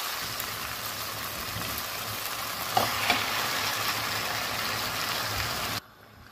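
Squid fries in a pan for adobong pusit, giving a dense, even sizzle throughout, with a couple of brief stirring clatters midway before the sound cuts off abruptly.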